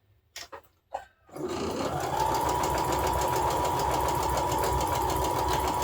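Sewing machine stitching quilt pieces runs steadily and close after a few brief handling clicks, a continuous even hum with a rapid mechanical stitch rhythm.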